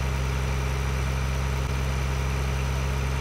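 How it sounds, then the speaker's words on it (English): A tractor engine idles in Farming Simulator 2013, giving a steady, low rumbling drone that holds constant throughout with no talking. "we just don't have the weight on the front wheels of this tractor"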